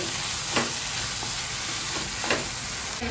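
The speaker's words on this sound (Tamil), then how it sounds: "நல்லா கிளறி வேகட்டும். மசாலாவோட நல்லா குக் ஆகட்டும்." Clam thokku masala cooks in a pan with a constant loud sizzle, broken by a few brief scraping stirs of a spoon.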